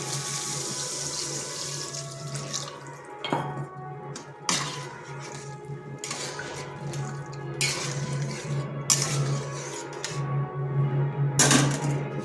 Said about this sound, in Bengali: এরপর দিয়ে দিচ্ছি জল